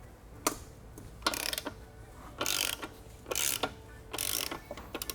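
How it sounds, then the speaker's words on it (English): A ratchet with a 27mm socket loosens the rear axle of a Yamaha MT-07 motorcycle in a series of close, crisp clicking bursts, repeated stroke after stroke over several seconds. "We're going to begin by loosening the axle. I'm going to use a 27mm socket for that."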